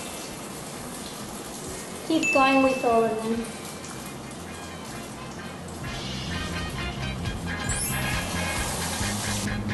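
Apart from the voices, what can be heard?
beer-battered chicken frying in a pan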